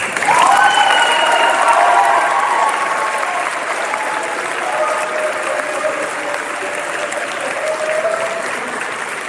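An audience at a Model UN closing ceremony gives a long round of applause for faculty advisors. It is a broad, full clatter that starts loud, eases slightly and carries on steadily, with a faint voice or tone threading through it.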